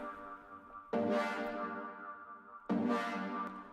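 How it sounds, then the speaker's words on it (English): Dry synth chords from a software synth preset, played without any effects, two sustained harmonic chords struck about two seconds apart, each ringing and slowly fading, with no talk over them. "The chords sound like this by their own."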